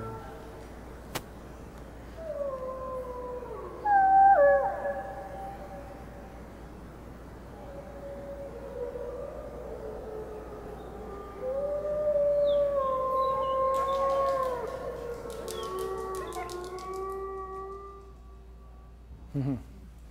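Adult female wolves from Oregon's Snake River pack howl in long, wavering, overlapping tones, several voices rising and falling at a distance across about twenty seconds, with a faint steady background hum.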